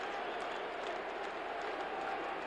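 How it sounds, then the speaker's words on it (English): A partisan Detroit Lions home crowd roaring and chanting defense at a football game against Washington, a dense, sustained stadium din from a large crowd far off. "Listen to this chant of defense erupting now from this partisan Detroit Lion crowd"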